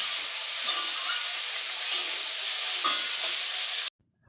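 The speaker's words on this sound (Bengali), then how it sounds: "এদিকে বটবডি আর আলু এটাও ভেজে নিচ্ছি" Bori (lentil dumplings) and potatoes fry in a pan with a continuous bright hiss and sizzle, a few faint stirring knocks within, cutting off abruptly near the end.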